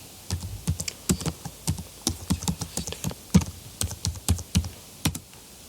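Close typing on a computer keyboard while entering a command on a CentOS system, a quick irregular run of crisp key clicks with short pauses between bursts.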